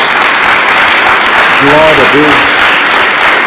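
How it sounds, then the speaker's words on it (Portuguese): Loud, dense applause from a church congregation keeps up throughout while a voice briefly calls out over the clapping. "É uma salva de palmas a Jesus."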